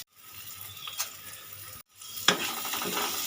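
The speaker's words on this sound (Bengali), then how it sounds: "এবার আমি দিয়ে দিলাম ভেজে রাখা আলু আলু দিয়ে ভালো করে কষিয়ে নিলাম" Fried potatoes sautéed with spices in a pan for a vegetarian soya kofta curry, with a soft sizzle under stirring and a brief cut before a sharper scrape and louder frying hiss.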